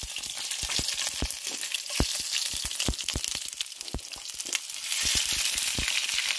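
Ginger and red chillies crackle in hot oil, with dense, sharp spitting pops over a steady sizzle that stays close and lively throughout, and no one talking.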